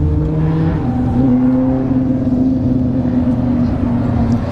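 Drifting cars at Orlando Speed World during a no-prep drag racing night produce a steady, distant engine drone with a sustained whining tone, continuous and fairly even in level, with no talk.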